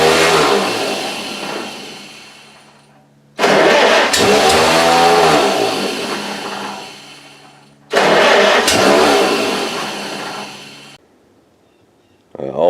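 Farmall tractor engine cranking over and catching, with three long cranking bursts and revving attempts, the motor briefly firing before each spins down; loud and close, with no talk over it.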